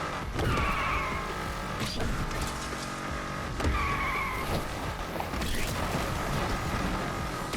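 A Mustang Foxbody drifting in Need for Speed Unbound, its tires squealing in drawn-out wails over a steady engine drone, with a few sharp scrapes and thumps along the way.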